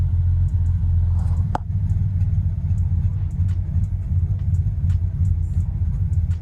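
A car engine idling, a steady low rumble with a continuous throbbing hum held close and even throughout, broken once by a brief sharp click partway in.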